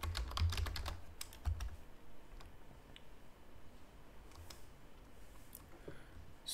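Keystrokes on a computer keyboard as an npm command is typed into a terminal: a quick burst of close clicks at first, then a few scattered taps over a quiet room hum.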